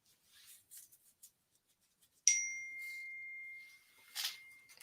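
A phone notification gives a single clear ding that rings on with a sustained tone, amid faint rustling and handling sounds.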